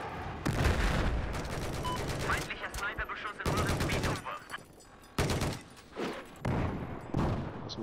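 Machine gun fire in Battlefield 4 multiplayer on the Silk Road map: loud, close, sustained bursts of rapid automatic shots, broken by short pauses between volleys.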